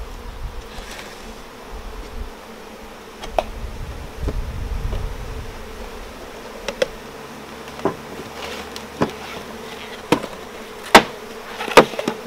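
Bees buzz around an open hive feeder as sugar syrup is poured in, a continuous close insect drone with intermittent sharp taps and knocks of beekeeping equipment, no talking.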